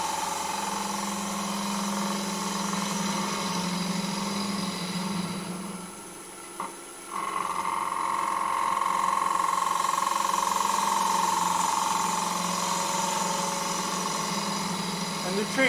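A wood lathe turns a bowl as a bowl gouge cuts the inside, giving a steady, close motor drone with a grinding cutting edge that briefly dips and then resumes evenly.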